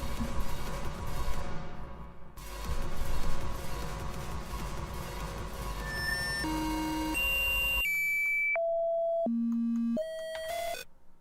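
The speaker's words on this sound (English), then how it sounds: "Bleepy bloopy computer sound." Bleepy electronic computer tones inside a music track, steady pitched beeps stepping between notes over a dense synth bed, then isolated sustained bleeps jumping up and down in pitch near the end, loud and alone.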